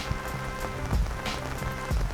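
Heavy rain pours steadily on a street in Görlitz near the Polish border, a dense, close hiss of drops spattering surfaces with a few low thuds mixed in, and no talking.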